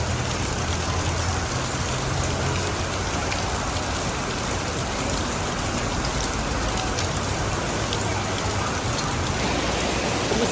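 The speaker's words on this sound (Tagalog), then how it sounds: "Sobrang lakas ng ulan." Heavy rain pours down outside a shopping mall as a dense, unbroken hiss of drops drumming on surfaces, steady and loud for the full ten seconds with no voices.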